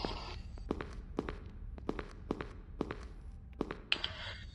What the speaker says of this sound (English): I feel like I can hear his footsteps.